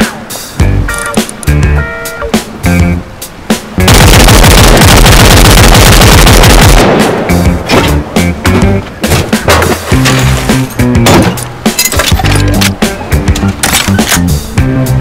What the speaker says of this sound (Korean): 사격 후 장전을 할 경우 이렇게 장전 모션을 취하고 나서 장전이 완료되는데